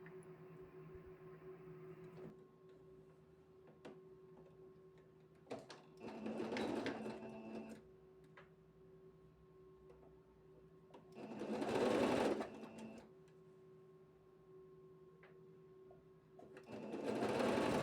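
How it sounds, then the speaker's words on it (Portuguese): A sewing machine stitches a blouse in three separate bursts of fast mechanical whirring, close and clear, with a faint steady hum and quiet pauses between runs. "a nossa costura, ela é toda feita com um pé de máquina"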